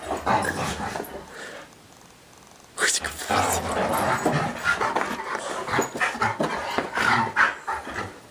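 A puppy pants rapidly up close with soft whimpering and small growly vocalizations, the breathing loud and continuous after a brief quieter stretch near the start.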